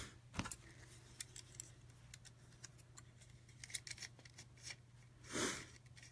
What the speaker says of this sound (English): I'm going to go ahead and go down and cut it again.